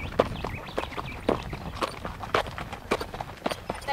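Horse hooves clip-clop in a steady walking rhythm during an endurance ride, close by, with faint background noise and no talking.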